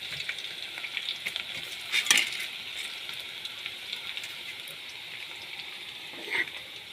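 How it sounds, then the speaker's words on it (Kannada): Curry leaves sizzle and crackle in hot oil while cooking masala chitranna, a steady close fry with a sharp burst of spitting near the middle and another smaller flare toward the end, no talk. "ಇವಾಗ ಕರಿಬೇವು ಹಾಕೊಳ್ಳಿ"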